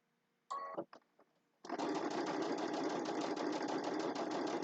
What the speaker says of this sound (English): And this is just a top stitch, it's not sewing anything else together.